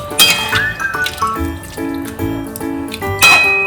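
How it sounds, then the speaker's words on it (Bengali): Coconut milk is poured into a pot for a chicken stew, giving wet liquid splashes with light metallic clinks and ringing tones from the pot, close and fairly loud. "দিলাম নারকেলের দুধ"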